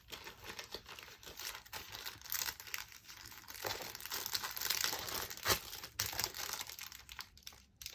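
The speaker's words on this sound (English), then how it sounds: "I'll open a new packet and hopefully it will be okay" A plastic packet of craft foam pads is opened and handled up close, giving continuous loud crinkling and crackling with small tearing bits, steady throughout and without talk.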